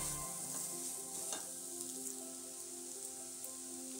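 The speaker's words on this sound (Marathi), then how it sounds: "तर हे मसाले आपल्याला पुन्हा एकदा असेच व्यवस्थित मिक्स करून घ्यायचे आहेत।" Spices stirred and roasting in a little oil in a pan, giving a soft, even crackle and sizzle up close with a faint scrape of stirring near the start, no talking.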